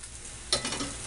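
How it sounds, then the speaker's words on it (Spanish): Pork chops fry in a pan with a steady broadband sizzle, brightening with a sudden burst of crackle about halfway through; no talking. "se siguen friendo las chuletas"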